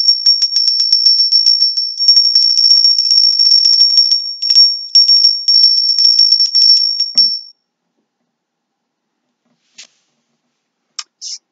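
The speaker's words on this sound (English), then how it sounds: "I am going to ring the bell." A small hand bell rings rapidly and continuously for about seven seconds, bright and close. It stops, then a few faint single chimes and taps follow after a silence.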